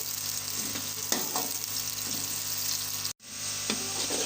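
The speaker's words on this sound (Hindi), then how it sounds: "तेज़ आंच पे हम प्याज़ों को डार्क ब्राउन कर लेंगे 5 मिनट तक" Onions frying on high heat for chicken biryani, a loud, continuous close sizzle with occasional stirring scrapes, cut by a brief dropout near the end before resuming.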